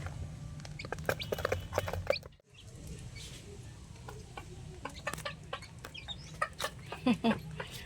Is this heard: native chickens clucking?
yes